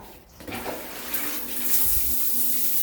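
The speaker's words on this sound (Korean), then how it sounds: "해바라기 샤워기를 한번 틀어 보도록 하겠습니다" Water streams from a sunflower rain shower head in a newly remodeled small bathroom, a loud steady hiss and splatter that swells after a brief quiet start, with no talking.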